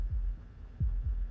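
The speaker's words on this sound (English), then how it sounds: "That was the sound of a heartbeat," A heartbeat in the video game Slay the Princess, heard as deep, muffled low thumps, a pair of beats then another, close and alone over a faint hum.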